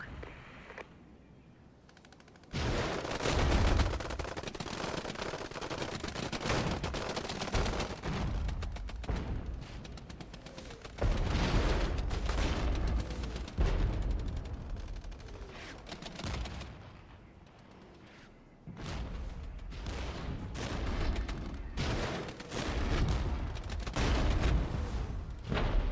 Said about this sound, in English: We're getting a lot of fire here.